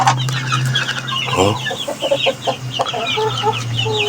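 A breeding hen clucks in short, repeated bursts over a steady low hum, with other birds chirping faintly and a brief voice.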